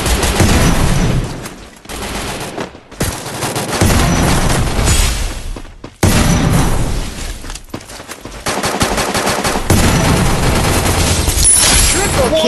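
Video game gunfire as enemies are killed with headshots, loud sustained bursts of rapid automatic fire with short gaps and abrupt cuts, dense and continuous throughout.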